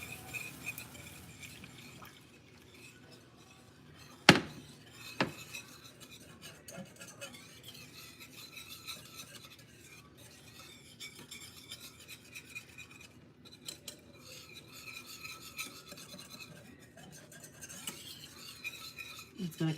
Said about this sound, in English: just gonna keep whisking it